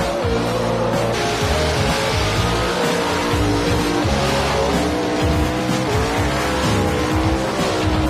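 Nitrous oxide-injected mountain-motor drag racing car roaring loud and continuous, the engine note climbing through gears with a gritty, harsh tone and hints of tire squeal, close and alone.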